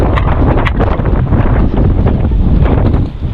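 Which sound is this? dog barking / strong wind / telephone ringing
strong wind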